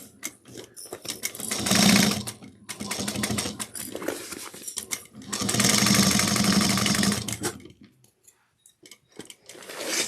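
Sewing machine stitching a crossbody bag pocket closed, running in two long bursts with a short pause between, then stopping near the end with faint handling sounds.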